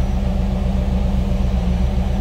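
A 1994 Chevrolet Camaro Z/28's 5.7-liter V8 rumbles steadily at idle, a deep, throaty exhaust burble close by.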